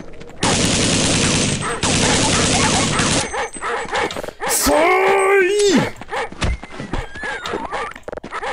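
A dog barks amid loud gunfire and other creature noises in the They Hunger Half-Life mod video game, with someone talking over the chaotic in-game sounds.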